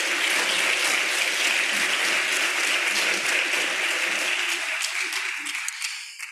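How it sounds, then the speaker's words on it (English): Audience applause at a 2023 Medicaid healthcare conference, a dense steady clapping from a large crowd that carries on loud and then tapers off and fades out over the last second or so. "If we can give them a round of applause."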